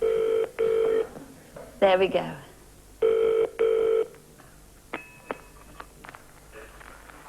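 A telephone ring tone sounds in two paired double bursts, answered by a short spoken remark and a faint electronic tone, on a line that had just been dialed.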